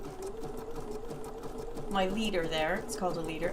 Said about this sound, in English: And then I'm just going to start stitching.